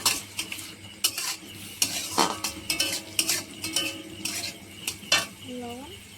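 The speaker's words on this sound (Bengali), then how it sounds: "তো আপনারা দেখতে পাচ্ছেন পেঁয়াজ এইভাবে ফ্রাই করে নিতে হবে" Onions frying in oil in a pan, with stirring scrapes and clinks of a utensil against cookware over a soft background sizzle, in short irregular bursts.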